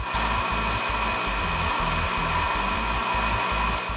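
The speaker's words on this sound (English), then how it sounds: "I finish the job with a finer grit with an inflated sanding drum." A steady, continuous mechanical whir of an inflated sanding drum with finer grit sanding wood, loud and close, with a constant high-pitched hiss and no voices.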